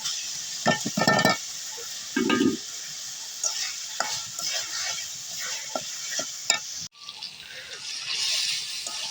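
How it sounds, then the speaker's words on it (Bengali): Spice paste stirred and fried in a pan, with a constant sizzle broken by repeated scraping strokes and bursts of louder stirring, close and fairly loud throughout. "মশলা কষাইতেছি"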